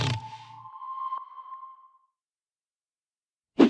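A short synthesized intro jingle for a French gaming channel: a sustained sonar-like electronic ping that rings and fades over about two seconds, followed by near silence and then a brief loud burst at the end.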